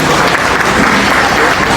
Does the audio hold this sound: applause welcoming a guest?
yes